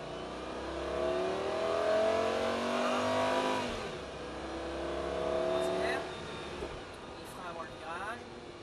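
A Lamborghini Gallardo engine revs up and climbs through the gears on a track, rising whine repeating as it accelerates out of a corner, with someone talking over the engine noise.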